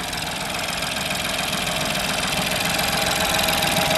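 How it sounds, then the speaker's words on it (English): A used Ford Fiesta engine idles with the bonnet open, a steady, even hum and fine mechanical clatter heard up close, with no talk. "A smooth engine"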